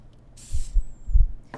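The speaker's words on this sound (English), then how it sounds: "And then spray the other side." A short burst of cooking oil spray on tortillas hisses once, close by, lasting a fraction of a second, with soft low thumps around it.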